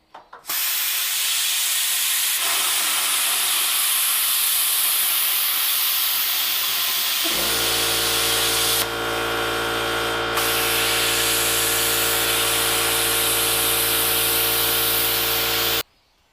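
A plasma cutter slicing through metal for barn door hardware, a steady loud hiss that runs unbroken for about fifteen seconds, joined midway by a lower droning hum before cutting off abruptly.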